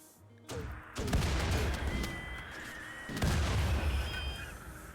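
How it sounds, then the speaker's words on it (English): Explosions in the video game RimWorld go off in two bursts, each a sharp crack followed by a rolling, crackling rumble that fades slowly, with no voices. "Okay, the explosions are doing their thing."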